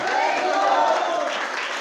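A church congregation at a Sunday service claps and shouts in praise, a dense, steady wash of hand claps blended with many raised voices throughout.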